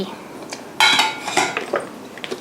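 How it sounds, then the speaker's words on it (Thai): Butter being beaten with sugar in a bowl, heard as a run of close clinks and knocks of a utensil against the bowl, a sharp cluster near the start and lighter taps afterward. "เราจะเริ่มตีเนยลงไปก่อน"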